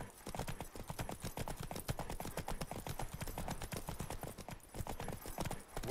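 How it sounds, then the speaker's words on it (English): Horse hooves clip-clop steadily in The Witcher 3: Blood and Wine, a close, even rhythm of hoofbeats continuing for several seconds. "Whoa there, Roach."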